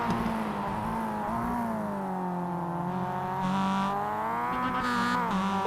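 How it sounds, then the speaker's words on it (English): Roadster race cars rev hard as they go light over the top of the corkscrew, a sustained loud engine drone with rising and falling pitch, close and continuous, with no talk. "you can hear cars as they get light revving so hard over the top of the corkscrew"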